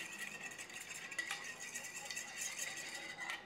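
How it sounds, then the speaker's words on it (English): A whisk clinks and rattles quickly in a bowl as egg yolks are beaten with milk for old-fashioned pink custard, a light, steady metallic stirring at low volume. "I'm just going to give that a little whisk round like that"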